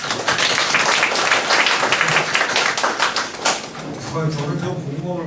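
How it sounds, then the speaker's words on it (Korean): A lecture audience applauds a professor: dense, loud clapping fills the room, fading toward the end as a voice begins speaking over it. "공 교수님께 다시 한번 박수 한번 쳐주시면"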